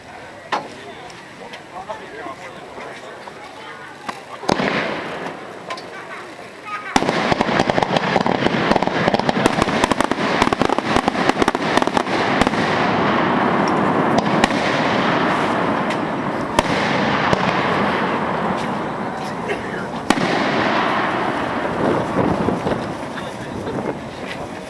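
A 2.5-inch, 36-shot fireworks cake fires outdoors: dense, continuous crackling bursts and booms roll on for many seconds after a few opening shots, loud and close, with wind buffeting the microphone and voices in the background.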